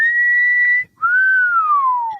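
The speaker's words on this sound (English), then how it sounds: "Whistling at it?" A person whistles two clear tones up close, a steady held note, a short break, then a longer note that slowly slides downward.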